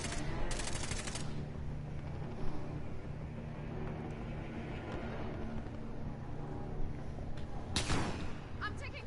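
Video game gunfire striking the player crackles in sharp bursts at the start and again near the end, over a steady low engine-like drone, with brief voice chatter in between.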